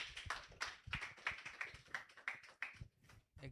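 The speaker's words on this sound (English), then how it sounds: "Let's clap once again." Sparse clapping from a small audience after a capstone personal presentation, a handful of hands striking in an uneven rhythm, close and quiet, with distinct individual claps and a brief gap before it resumes.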